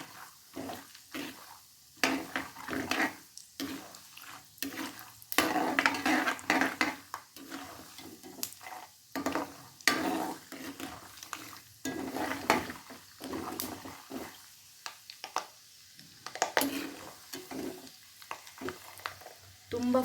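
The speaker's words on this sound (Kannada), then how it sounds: "ಇವಾಗ ಮೊದಲು ಶೇಂಗಾ ಹಾಕ್ಕೋತಿದ್ದೀನಿ. ಶೇಂಗಾ ಸ್ವಲ್ಪ ಫ್ರೈ ಆಗಬೇಕಲ್ವ" Peanuts frying in a pan as the first step of North Karnataka garlic mandakki, a soft sizzle broken by repeated scraping and clinks of a spoon stirring against the metal, faint and close.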